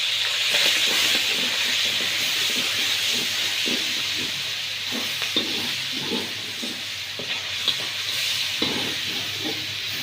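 Garlic sizzling in hot oil in a karahi while chicken karahi is being cooked, a steady, loud broadband hiss with scattered small crackles lasting throughout, no voices.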